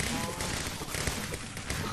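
Fireworks bursting in the video game Minecraft Dungeons, a dense, continuous barrage of overlapping crackling pops and thumps with no pauses.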